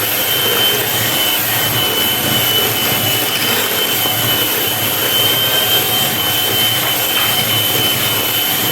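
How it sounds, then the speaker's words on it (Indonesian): An electric mixer whirs steadily through banana cake batter as egg yolks are added one at a time, a loud, even motor drone that runs without pause and has no voices over it. "Nah, terus ini kita mixer lagi. Sambil kita masukkan si kuning telur satu demi satu."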